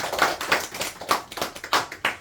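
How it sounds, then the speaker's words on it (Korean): A small gathering claps along at a slow, loosely regular rhythm, each clap sharp and close, with no talking. "박수 쳐주세요"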